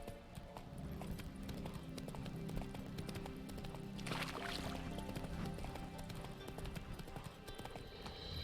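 A horse gallops in The Witcher 3, rapid rhythmic hoofbeats running throughout over ambient game sound and a soft rushing texture, with no talking.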